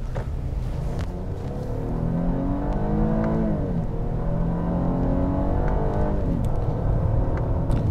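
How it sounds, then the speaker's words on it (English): A 2015 Acura TLX in Sport Plus mode accelerates hard at a little over half throttle, its engine note climbing in steady rising sweeps through the gears with paddle-shift changes, loud and continuous from inside the cabin. "And you know, the TLX just accelerates very quickly."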